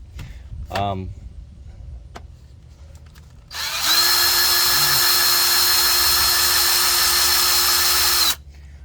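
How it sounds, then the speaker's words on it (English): A power drill bores a hole through metal. The motor whines with a sustained high-pitched tone for about five seconds and then cuts off. A short rising mechanical chirp and a click come earlier. "If you drill full speed all at one time, you're just going to burn up your drill bit."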